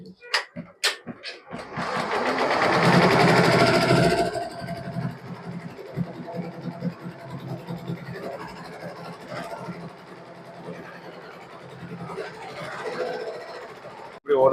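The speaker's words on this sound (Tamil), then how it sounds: "இப்போ ஆன் பண்ண போகிற மிஷின் ஆன் ஆகிட்டு" An embroidery machine stitching a bride-and-groom name design starts up and runs with a steady mechanical hum and rapid needle rattle, loud at first and then settling into a continuous drone.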